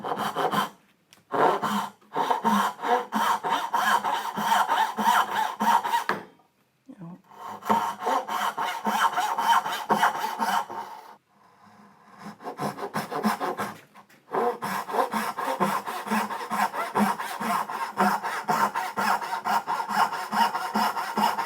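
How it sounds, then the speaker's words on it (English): A Western hand saw cuts dovetails in wood with steady rhythmic back-and-forth rasping strokes, close and clear, in several runs separated by short pauses. "And as I'm cutting, you want the show face to be towards you, because if you're using a Western saw"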